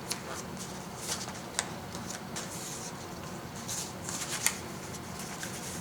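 Paper is folded and creased for an origami phone stand, giving soft rustles and a few sharp crinkling snaps close up, with no talking.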